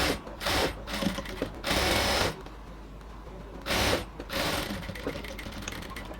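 Sewing machine stitching elastic into a ladies' pant waistband, running in bursts with brief pauses and a steady whir between, close by and fairly quiet, without speech.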